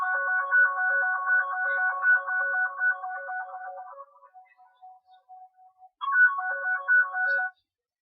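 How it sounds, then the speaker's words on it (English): A misplaced phone plays its locating sound so it can be found, a loud repeating electronic chime pattern that fades to faint beeps, then resumes at full volume before stopping abruptly. "When you reach, you play the sound to find the phone."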